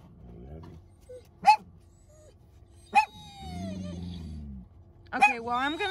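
A dog at home barks sharply three times, close and loud, with whimpering yips between, while someone talks affectionately over it.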